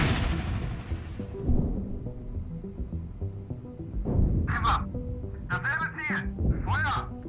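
A tank's main gun fires in the PC game Gunner HEAT, giving a heavy boom at the start that decays into a low rumble, followed by other game sounds.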